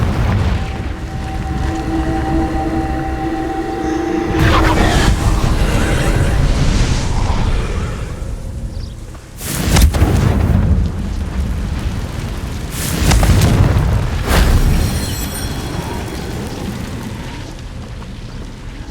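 Repeated Confringo spell blasts in the Hogwarts Legacy game come as several heavy, rumbling booms and bursts spread across the stretch, loud and close over a dense, continuous game soundscape.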